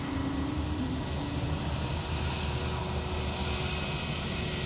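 An Air Canada airliner at Sydney Airport gives off a steady, distant jet engine roar with a faint tonal hum, continuous and with no talking.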